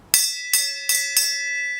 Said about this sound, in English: Would you mind ringing the bell for me?